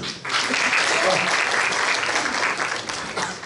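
Audience of trainees at a police training center lecture breaking into applause, a dense steady wash of clapping lasting a few seconds, fairly close and unaccompanied by speech.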